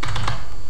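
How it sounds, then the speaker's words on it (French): Computer keyboard keys clattering in quick bursts while someone plays Minecraft, close and fairly loud, with no voices. "désolé pour le bruit du clavier parce que c'est un peu de bruit."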